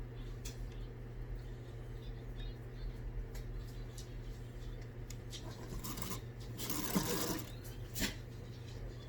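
Sewing machine stitching a seam on an off-the-shoulder lavender dress, a steady low mechanical hum running throughout with brief louder bursts of clatter near the end.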